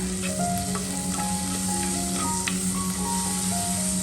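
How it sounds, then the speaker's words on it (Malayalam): Onion, carrot and mushroom soften in hot oil in a pan, giving a steady, close sizzle with light stirring throughout. "ഈ ഒരു സവാളയും ക്യാരറ്റും മഷ്റൂമും നന്നായിട്ട് എണ്ണയിൽ വാടി വന്നിട്ടുണ്ട്"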